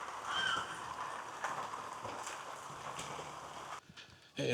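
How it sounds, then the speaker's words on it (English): A bird, likely a crow, caws a few times amid steady rainfall on a wilderness hiking trail near Sanford, Florida, the calls moderately distant over a constant hiss of rain. "Bird don't sound too happy about it either."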